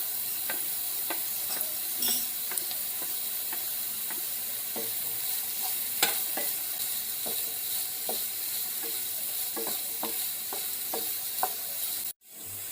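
Onion and capsicum fry in a pan with a constant, close sizzle. A spoon clicks against the pan in an irregular rhythm as it stirs, and the sound cuts off abruptly near the end.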